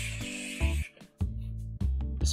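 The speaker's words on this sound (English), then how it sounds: "Can I spray myself with this?" Deodorant spray in the TCG Card Shop Simulator video game hisses in several short bursts, each a second or less with brief gaps between them. The bursts are close and moderately loud, with a low tonal hum underneath and no talking.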